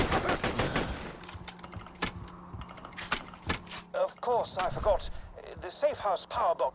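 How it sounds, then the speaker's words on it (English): Bursts of automatic gunfire in the video game Borderlands 2 crack sharply at the start and again midway, then fade as a game character's voice talks over the action. "Where am I getting shot from?"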